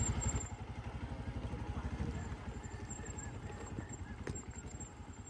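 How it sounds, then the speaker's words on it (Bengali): A motorbike ridden down off a river embankment, its engine giving a steady, low, rhythmic putter close by throughout, with a faint high whine above it. "বাঁধে থেকে নামছি এরপর বাইক চালিয়েই"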